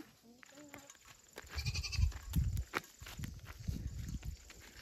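Goats bleat a few times at close range amid rustling and footsteps, with a voice briefly in the background.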